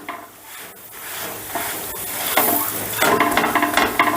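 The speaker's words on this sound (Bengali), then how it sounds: "দেখো বেশ লাল লাল করে ভেজে নিলাম" Close sizzling of a pea-stuffed paratha frying in a hot pan, growing louder, with scraping and stirring sounds from a utensil against the pan.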